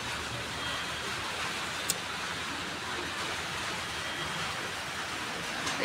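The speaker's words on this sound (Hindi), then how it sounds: "बारिश स्टार्ट हो गई है" Rain falls steadily outdoors, a soft, even hiss of drops on surfaces with no pauses, heard faintly and alone.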